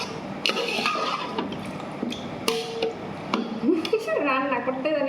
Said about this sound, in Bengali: এখন ভালো মতো নাড়াচাড়া দিয়ে লমু।